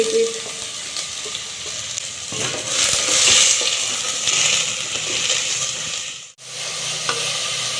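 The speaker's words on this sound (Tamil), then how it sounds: "Oil is hot. See, bubble is coming." Hot oil bubbles and sizzles steadily in a pan for curry, close and fairly loud, with stirring scrapes partway through and a brief dip near the end.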